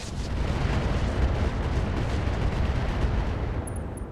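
Mech weapons firing AX ammo in RogueTech: a dense, sustained roar of heavy weapon fire and explosions that stays loud and unbroken for about four seconds.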